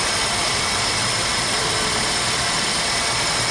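A 1998 Toyota Corolla engine idling after a tune-up, a steady, even hum with no variation throughout, fairly loud and close with no voices over it.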